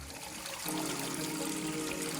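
Water trickles and gurgles steadily at the headwaters of Flat Rock Run, where the stream emerges from the ground. The flow is close and continuous, and it grows fuller partway through.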